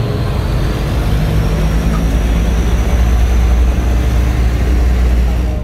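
An Adi Putro Jetbus 2 Super Double Decker bus with a Scania K410IB engine rolls past near a Cikarang toll gate, a deep continuous engine rumble and road roar held at steady, close loudness throughout.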